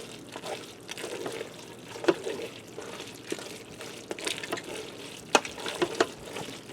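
A spoon stirs chili cheese mac and cheese with ground beef in a Ninja Smart Lid cooker, giving soft, wet squelching and occasional sharper scrapes, fairly faint and uneven in rhythm.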